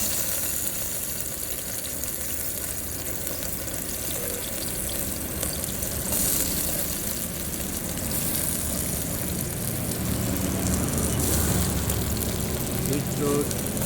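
Vegetables frying in hot oil, a broad continuous hiss and crackle that swells slightly toward the end, with a voice talking over it.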